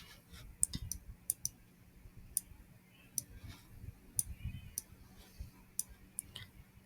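Sparse, crisp computer mouse clicks while working through a chemistry spectrophotometry simulation, single and double clicks scattered irregularly over a quiet background hum.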